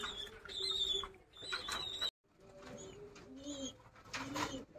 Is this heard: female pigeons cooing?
yes